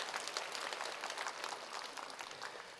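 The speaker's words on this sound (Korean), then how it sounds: "박수 주시니 좋네요." Faint, distant applause from a conference audience, a soft even patter of many hands lasting a few seconds.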